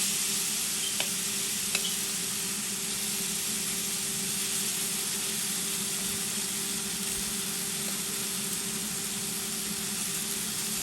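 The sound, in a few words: tandoori salmon slices frying in oiled grill pan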